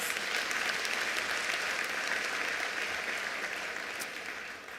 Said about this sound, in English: I'd like us to give a hand of applause to our educators.